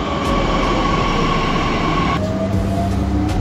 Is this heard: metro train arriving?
yes